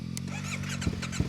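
A CFMOTO 450MT motorcycle engine cranks and struggles to start in the cold, a steady low mechanical drone with a few uneven thumps near the end, close by with no talk.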